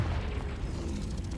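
A Confringo blasting spell explodes in the Hogwarts Legacy video game, a dense, steady rumble of booming noise that fills the whole short moment without pause.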